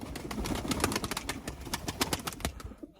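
Pigeons in a coop cooing close by, several overlapping low throaty calls in steady rhythm with some rustling and flapping among the birds.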